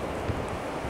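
Strong evening wind buffets the microphone on the beach at Renesse in the Netherlands, a loud, continuous rushing roar with possible surf mixed beneath.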